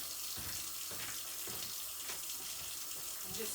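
A kitchen tap runs steadily into a sink, a continuous broadband hiss of water with small splashy fluctuations, close and alone with no talk.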